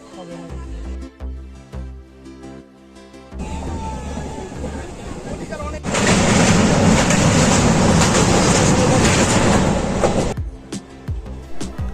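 A moving express train rumbles and rattles steadily through North Bengal near New Jalpaiguri, growing louder and more intense midway, then easing off near the end, with a faint voice early on.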